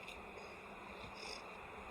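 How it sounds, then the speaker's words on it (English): Honey bees hum in a low, constant drone around an opened hive with a heavy super in a subarctic apiary in fall, faint and even, with one slightly brighter swell midway. "Lots of bees down here too."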